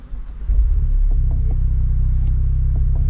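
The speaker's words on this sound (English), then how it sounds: "But we start the engine here." A 2025 Ford Mustang EcoBoost convertible with the optional Sport Performance exhaust cranks over and catches, settling into a steady, deep low rumble at idle close by.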